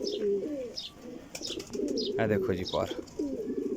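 Sialkoti pigeons coo repeatedly up close in a loft, soft throaty calls overlapping with chirps, while someone talks over them throughout.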